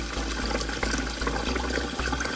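Rice being rinsed in water before sautéing, a steady close wash of running and swishing water that fills the short stretch with no speech.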